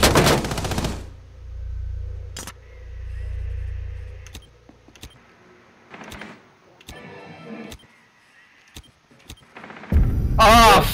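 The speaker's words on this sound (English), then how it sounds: "He did shoot him." Gunfire in the video game Rainbow Six Siege, a loud burst at the start and again at the end with sharp single cracks scattered between, mixed with low game ambience.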